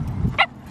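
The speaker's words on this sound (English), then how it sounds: "Naya, Naya, sit. No bark" A pet dog lets out one short, close, yipping bark outdoors at a park, a brief sharp burst after a muffled low sound.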